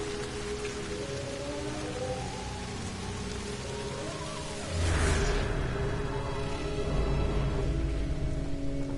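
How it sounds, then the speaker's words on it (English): Steady, dense poison rain falls in a video game, hissing continuously and growing heavier and louder about halfway through, with no talk. "it does actually say the weather is poison rain"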